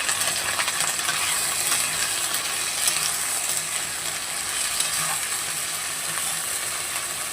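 Onion and potato with ginger-cumin paste sizzling in hot oil while being stirred, a steady dense crackle throughout with occasional scraping and clinking from the spoon against the pan.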